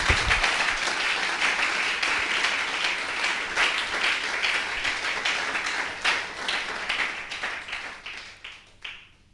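A church congregation applauds together during a sermon, loud, dense clapping sustained for several seconds before thinning out and fading near the end.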